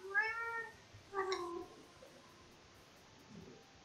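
A cat meows twice in quick succession, faint and somewhat distant, followed by a softer third sound amid low background hiss.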